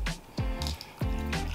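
Hot water poured over a spoonful of Javy coffee concentrate in a cup, heard as short close splashing pours in three bursts, with no talking.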